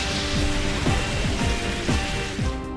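Steady rain-like hiss from the Rain Dance move in the Pokemon XD video game, a continuous wash of patter with game music tones and descending synth sweeps running through it, no talk.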